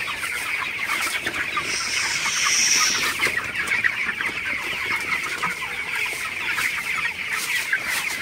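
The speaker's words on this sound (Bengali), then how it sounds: "প্রচুর গরম, তো মুরগিগুলা গরমে হাঁপাইতেছে।" A crowded flock of broiler chickens close by at night in heat, their rapid, shallow panting mixed with soft, continuous murmuring clucks, with no voices.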